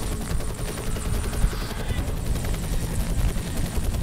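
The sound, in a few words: helicopter in a video game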